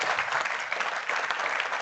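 An audience at a power grid modelling meetup applauds a speaker after a talk, a steady, moderately loud stretch of clapping.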